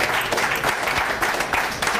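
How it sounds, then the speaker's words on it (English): Studio audience applause on a talk show, a short burst of steady clapping heard beneath people talking. "I think a round of applause for Christina."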